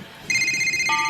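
A telephone rings with a sharp electronic tone that begins suddenly and holds steady for under a second, clear and close, with no talk over it.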